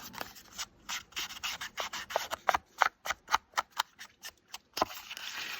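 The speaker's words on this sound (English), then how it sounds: "I need to bring my ink dauber back in to go over those edges that we just trimmed away" An ink dauber scrubs over the freshly trimmed edges of a paper tag in quick, close, rhythmic rubbing strokes, a dry scratchy swishing repeated over a dozen times with short pauses between bursts.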